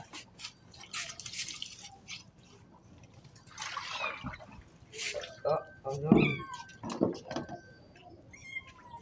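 A cat meows several times during a bath amid splashing and dripping water, while people talk over it nearby.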